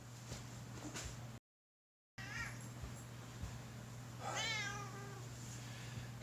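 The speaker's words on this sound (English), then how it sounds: "a lot of times when you say meow, she'll meow" Domestic cat meowing indoors, a couple of clear, close meows over a low steady hum.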